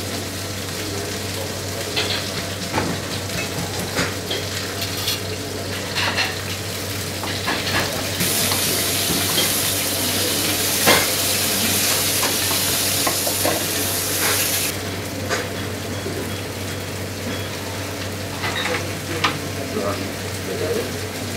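A pork chop frying in a pan with butter and an aromatic garnish of onion, carrot, celery and garlic gives a continuous sizzle with intermittent stirring and clinks. The sizzling swells in the middle stretch and stays close and steady.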